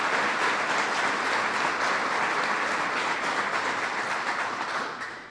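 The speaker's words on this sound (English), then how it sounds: "Let's give all of these great public officials a rousing round of applause" A large audience at a White House infrastructure summit gives public officials a rousing round of applause, dense, steady, even clapping that continues unbroken and fades slightly at the end.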